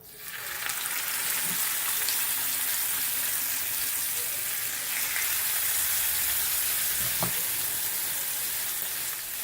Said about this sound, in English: now I'm going to add my salmon